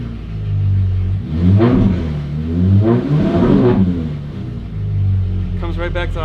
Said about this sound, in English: I'm gonna give it a quick tap of the gas.